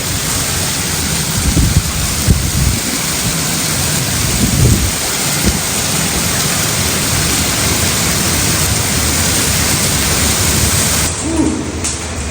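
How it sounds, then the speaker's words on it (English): A thunderstorm with heavy rain drums on a camping van, a constant close roar swelling with low thunder rumbles and gusts, easing near the end. "Man, that's quite the storm."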